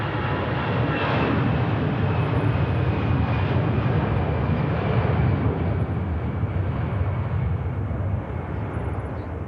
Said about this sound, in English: EasyJet now spooling up.